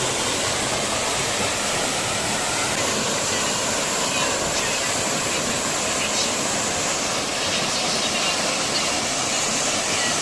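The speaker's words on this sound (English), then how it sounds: "At the waterfall." A waterfall in Kereita Forest roars steadily and loudly throughout, a dense, constant rush of falling water with no breaks.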